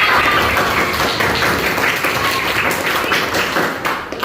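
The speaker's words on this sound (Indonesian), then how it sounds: "Tepuk tangan buat kita semua." A classroom of students claps together in a loud, busy burst that holds steady and then thins slightly toward the end.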